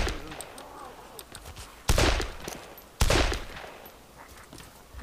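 Two sharp, loud rifle shots from an AS-50 at zombies in DayZ, the ArmA II mod, about a second apart, each with a rolling echoing tail, while someone talks quietly beforehand.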